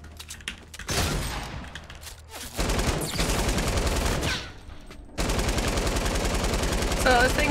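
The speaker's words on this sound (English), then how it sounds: "No, they're shooting me." Machine gun fire from a light machine gun in Fortnite: Battle Royale, rapid automatic bursts in three loud stretches separated by brief gaps, with faint game sounds between them.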